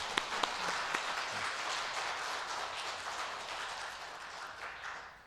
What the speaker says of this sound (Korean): 여러분, 우리 꽃꽂이 하시는 분들을 위해서 이때 한번 박수 한번 쳐드릴까요?